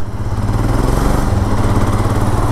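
A motorcycle engine chugs steadily and close while riding a tarmac road on a foggy winter night. The pulsing drone holds an even, unbroken rhythm with no talk.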